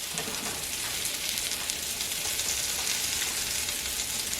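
Kimchi stir-fried noodles toast in a hot pan, giving a steady, close, even sizzle that carries on alone without pause.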